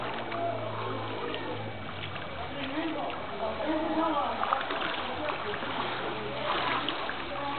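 People wade out of 2011 floodwater with sloshing and splashing steps, while several voices talk loudly over the water throughout.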